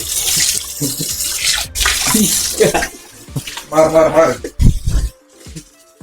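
Tap water running and splashing while chicken is washed for grill chicken, close and uneven, with dripping and bursts of flow under people talking.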